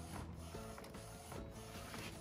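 A DTF roll printer runs nearby, its mechanism giving a continuous whirring hum broken by periodic rubbing, sliding strokes of the print carriage.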